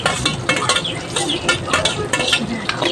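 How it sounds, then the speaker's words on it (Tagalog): Onions and garlic sautéing in a pan for duck adobo, a steady close sizzle broken by repeated scraping and stirring strokes, with occasional light clinks of utensil on pan. "Saute ng konti"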